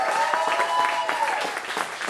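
Audience applause in a live music venue welcoming a drummer to the stage, moderate clapping mixed with crowd murmur and a sustained tone underneath, fairly steady throughout.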